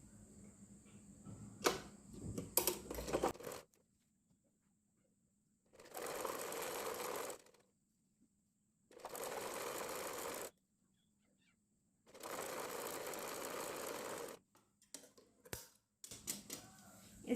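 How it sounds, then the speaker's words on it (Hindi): A sewing machine stitches along a folded fabric strip for a pair of girls' shorts, running in three steady bursts of about two to three seconds each, with quiet pauses and faint handling clicks between them. "अब इसके ऊपर सिलाई लगाएंगे"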